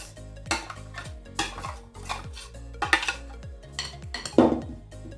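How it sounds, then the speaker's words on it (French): A spoon scrapes and clinks around a dish as fruit and grenadine are mixed together, a steady run of close metallic stirring taps with no voice over it. "Là, on mélange un peu."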